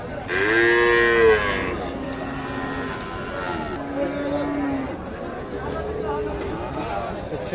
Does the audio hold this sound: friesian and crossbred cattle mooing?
yes